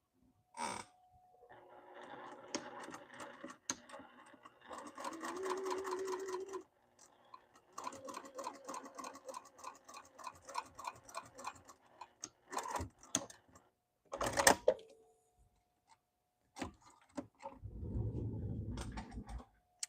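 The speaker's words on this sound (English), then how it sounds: "let me take this over here and stitch that" A home sewing machine stitches a hoodie made from a Tami Revolution pattern in several short bursts of rapid mechanical whirring and clatter, separated by pauses, clicks and handling noises, ending with a lower rumbling run.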